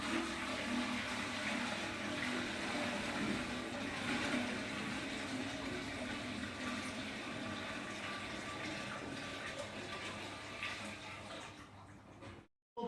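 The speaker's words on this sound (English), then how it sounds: "fill it up with tap water" Tap water pours steadily into the condenser of a B-Tech 40 biodiesel processor, a constant hissing rush of filling water lasting about twelve seconds before cutting off abruptly.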